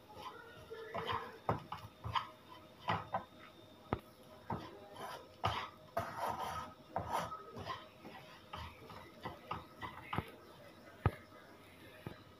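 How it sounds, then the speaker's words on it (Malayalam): Spice powders for a prawn biryani are stirred in a hot pan, a repeated dry scraping and rasping of the spoon against the pan in uneven strokes, close and fairly faint. "ഇതിൻ്റെ പച്ചമണം മാറുന്നവരെ നന്നായിട്ട് ഇളക്കി കൊടുക്കാം."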